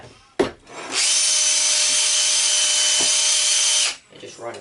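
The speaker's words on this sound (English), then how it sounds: "So I'm going to take this wire wheel here, hook up to the drill." A wire wheel on a power drill scrubs rust from an old axe head, a steady loud whirring grind for about three seconds after a sharp knock, then spinning down.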